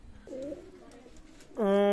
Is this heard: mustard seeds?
no